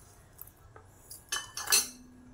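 A utensil stirring raw mango jam in a steel wok on a low flame scrapes and clinks against the metal in a few short, close strokes that grow louder toward the end, with no talking.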